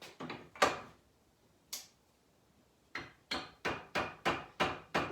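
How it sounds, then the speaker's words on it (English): A rubber mallet taps a bearing out of a 2004 Kubota B7510 front axle part held in a vise. Sharp knocks come in a few early hits and one isolated strike, then a quick, regular run of about seven blows. "I think I'll put that on the vise and tap"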